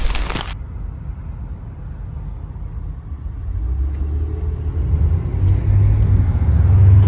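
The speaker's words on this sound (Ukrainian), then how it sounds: "Їду на старому GMC Savannah 2002 року випуску." Interior of an old 2002 GMC Savana van on the move, with a loud steady low road rumble and engine drone that builds slightly toward the end, and no one talking.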